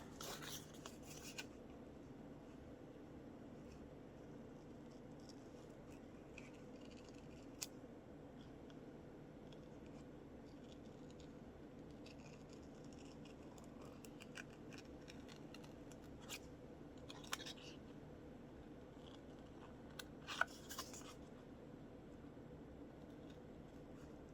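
Scissors snip through paper being cut out for a small collage, a quiet, sparse scatter of brief crisp cuts and rustles over a faint background hiss, with no talking.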